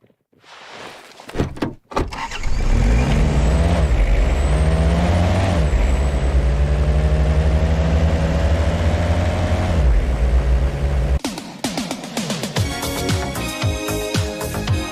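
A vehicle in the hunting game Way of the Hunter: a door clunks, then a loud steady engine drone with shifting revs for several seconds, ending with a burst of clattering mechanical noise.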